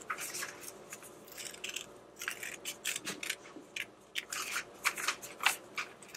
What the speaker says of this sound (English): you'll need scissors, and then you'll just cut it out